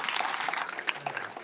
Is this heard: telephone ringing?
no